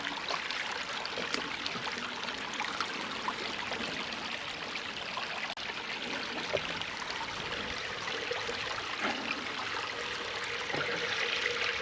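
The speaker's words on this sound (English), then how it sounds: "That water's now flowing down there." Water flows steadily down a drainage channel that has just been cleared of a leaf blockage along a green lane near Fillongley, making a continuous trickling, babbling rush with no voices.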